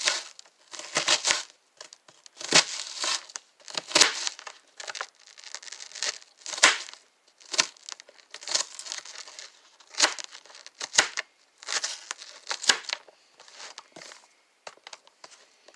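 An onion being chopped with a knife on a board, producing a rapid run of crisp, uneven cutting thuds and crunches that repeat close up for a long stretch.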